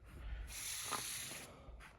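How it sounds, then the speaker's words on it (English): An aerosol spray can paints down into the vent area of a car door panel after epoxy sanding, one steady hissing burst of about a second, close and fairly quiet, followed by a shorter spritz. "I'm going to spray the paint down into the vent area here"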